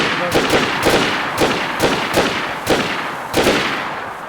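Rapid bursts of gunfire in the zombie game DayZ, about ten sharp loud shots in an uneven rhythm, some close together, with a faint voice briefly underneath.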